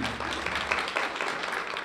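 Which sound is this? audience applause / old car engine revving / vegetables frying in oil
audience applause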